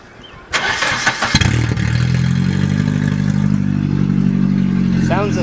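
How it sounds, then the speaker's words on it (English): A car engine with no exhaust fitted cranks briefly, catches and settles into a loud, raw, steady idle close by, with a voice briefly heard near the end. "We'll see how it sounds with no exhaust."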